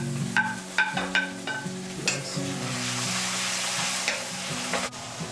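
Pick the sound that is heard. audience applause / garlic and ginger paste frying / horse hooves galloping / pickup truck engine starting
garlic and ginger paste frying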